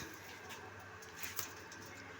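Pigeons, two prize-winning hens kept for racing, coo softly at close range over a steady hissing background, with faint wing rustles and no voices.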